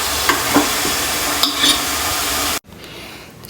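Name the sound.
frying ingredients in a pan until reddish, for pickle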